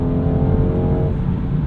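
A 2022 BMW 230i Coupe with an 8-speed gearbox pulling hard, a steady, loud engine drone heard from inside the cabin over a short stretch.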